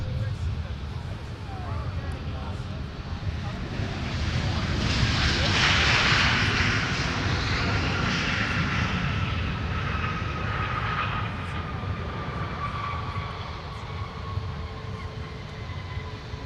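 An airliner on the runway at Minneapolis–Saint Paul airport at night, a steady broad jet roar that swells and fades over the span, with faint radio chatter from the tower.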